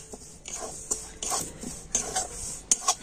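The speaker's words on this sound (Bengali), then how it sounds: "তো এখন আমি ময়দা সুজিটা একটু হালকা করে ভেজে নেব।" Flour and semolina being lightly fried and stirred in a pan, a spatula scraping and tapping against the metal in irregular soft strokes, close and fairly quiet with faint background noise.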